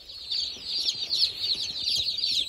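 A crowd of newly arrived chicks, shipped by post and about to go into a brooder, peeps continuously in high, overlapping chirps, close and steady, with faint handling noises underneath.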